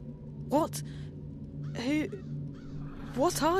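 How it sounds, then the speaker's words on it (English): A crow caws several times in Dreamfall: The Longest Journey, with rising harsh calls in short bursts over a low steady game hum, with spoken dialogue mixed in. "I'm a bird. Crow's the name."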